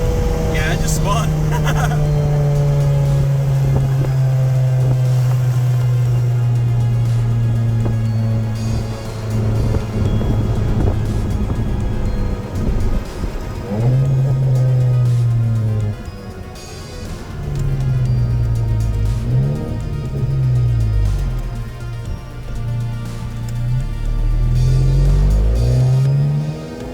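A VW MK7 GTI fitted with a BFI Stage 1 dogbone mount insert launches hard in first gear, its loud engine rising in pitch and then revving through several surges, with speech heard over the engine.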